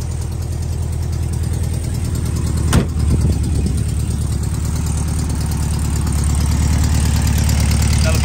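A 1970 Volkswagen Beetle with 89,000 original miles idles steadily up close. The engine gives a continuous low, even chug with a brief sharp knock early on and no voices.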